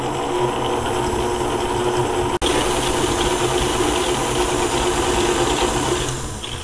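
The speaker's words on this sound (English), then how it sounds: "Put in that in my mixer here, and I'm going to turn this on to about medium speed until it's light and fluffy" A stand mixer runs at medium speed creaming brown sugar, a steady mechanical whir with a constant hum that holds throughout, briefly cut off once, then fades slightly at the end.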